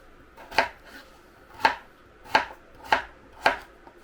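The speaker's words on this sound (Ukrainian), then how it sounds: "І починаю з того, що поріжу картоплю, щоб вона не темніла" A knife chops potatoes on a cutting board in a home kitchen, five sharp distinct knocks at an uneven, unhurried pace, close and clear with no talk.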